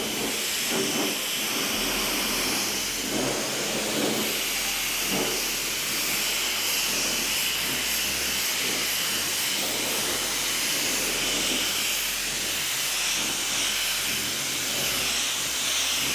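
An IONSTAR anti-static air gun blows a steady, loud hiss of air across a car bonnet, continuous throughout with faint clicks and knocks underneath and no talking.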